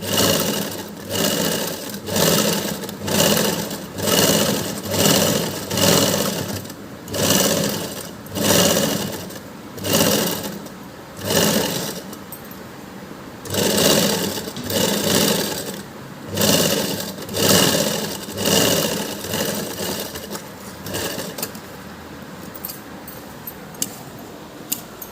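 A sewing machine stitches a blouse in steady rhythmic bursts, running and pausing repeatedly with a mechanical chatter, close and fairly loud throughout.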